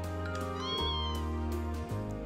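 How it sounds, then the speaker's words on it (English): Cat in the Trails of Cold Steel game gives a few clear, close meows in quick succession, tonal and distinct over a quiet music bed. "Oh, that's a kitty!"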